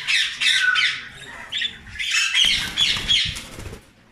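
A pair of red rosella parrots squawking loudly in a breeding aviary, harsh calls following one another closely over a few seconds, with a brief flutter of wings.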